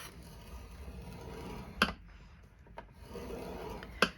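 Card stock being scored for a 3D Smartie box, with soft rasping strokes and two sharp clicks, close and quiet.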